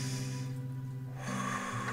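One deep breath drawn in slowly and released in a quiet, calm setting, a soft airy sound heard alone with a faint tonal background beneath it.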